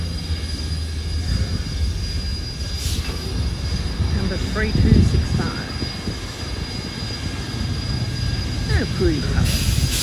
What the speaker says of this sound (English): And here comes the train, the engine, loco.